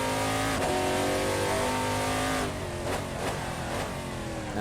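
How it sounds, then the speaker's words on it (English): A race car engine in the racing game Assetto Corsa, on the Barcelona circuit, roars loud and close, holding a high pitch and then shifting through several quick rev changes toward the end, with no talk over it. "This car sounds great."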